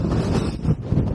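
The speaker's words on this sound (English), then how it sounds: "Man alive, this is some wind." Strong wind gusts buffet a microphone on a cold clifftop above Folkestone, a loud low rumbling roar that rises and falls in uneven surges with no voices.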